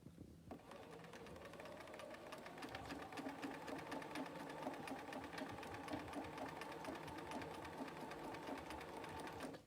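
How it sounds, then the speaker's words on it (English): A sewing machine running steadily as it stitches a scant quarter-inch seam for quilting, a continuous fast mechanical whir and rhythmic needle clatter after a brief start, close and even throughout. "I'm gonna back and sew this scant 1/4 inch"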